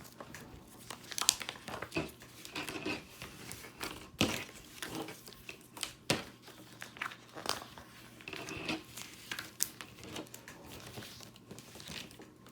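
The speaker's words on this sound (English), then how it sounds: "I basically just peel it off." Holographic heat transfer vinyl is peeled off its backing sheet in quiet crinkling, crackling pulls, a run of short irregular rustles close by without speech.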